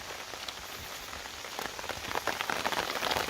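Rain falling in a misty mountain forest on Doi Pui, Thailand: a dense, close patter of drops on leaves and ground that builds slightly louder, with no voices.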